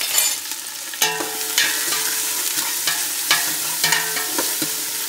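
Chopped onions sweating in bacon grease in a pan, a steady soft sizzle broken by several sharp scrapes and clinks of a utensil stirring through them, close and clear with no talking.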